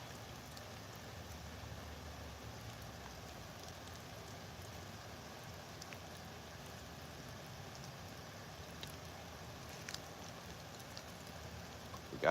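Rain falls steadily during a stormy fishing trip, a soft, even hiss with occasional faint drop taps, quiet and continuous with no voices.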